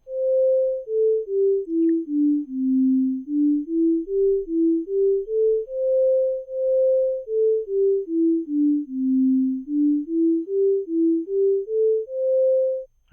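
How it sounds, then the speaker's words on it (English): A MATLAB-generated melody of pure half-sine-wave tones steps down and back up in a smooth repeating pattern. Each note swells and fades cleanly, and a few notes are held longer, with nothing else present. "So first let us play the notes when they are generated using half sine wave."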